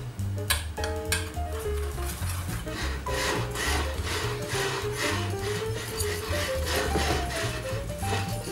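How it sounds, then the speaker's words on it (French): Icing sugar rasps through a metal sieve in a pastry kitchen, a steady scratchy rubbing with rhythmic taps against the rim, close and continuous over soft background music. "on commence de suite par le sucre glace que je vais tamiser"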